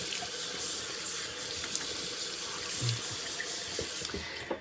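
A bathroom tap runs steadily into a sink, rinsing shaving lather away. The close, continuous splashing flow holds at an even level, with small bumps as hands move under the stream.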